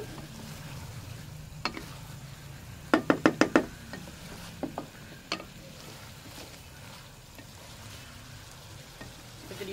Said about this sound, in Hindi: अच्छी तरह मैं इसको भूनूंगी।